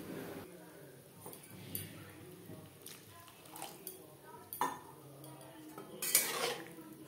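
A metal spatula mashing onions and tomatoes in a cooking pan for a puti fish curry, giving quiet intermittent scrapes and clinks against the pan, with a louder clatter near the end.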